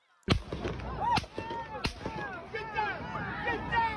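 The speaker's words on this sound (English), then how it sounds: "First, the rapid gunshots." Rapid gunshots at a Trump rally crack out as three sharp reports spaced under a second apart, followed by crowd screams and shouting that continue loudly.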